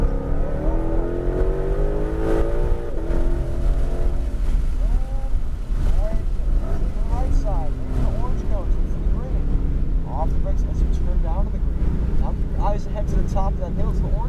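A Shelby GT500 engine pulling hard around cones at New Hampshire Motor Speedway, a loud steady roar with shifting revs, under continuous talk from people in the car.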